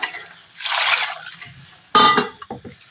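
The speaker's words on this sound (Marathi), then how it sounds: "छान असं चोळून आपल्याला हे गहू धुवून घ्यायचे." Khapli wheat grains being washed in a pot of water: a burst of sloshing and swishing, a pause, then a sharp splash followed by a few clinks and drips against the vessel, close and fairly loud.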